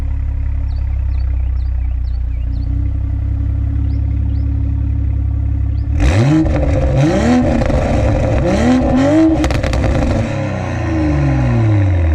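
A Toyota Supra fitted with an HKS Hi-Power exhaust fires up warm after a quiet stretch, then barks through several sharp revs that rise and fall before settling back to idle, loud and close.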